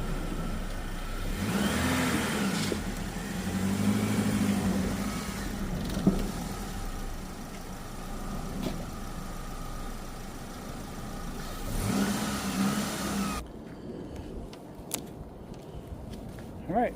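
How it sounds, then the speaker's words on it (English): A high-mileage Chevy Cobalt (367,000 miles) is driven slowly up onto ramps, its mid-pitched engine revving and rising in a few swells before cutting off near the end, with a voice speaking over it. "Let me pull it up on the ramps"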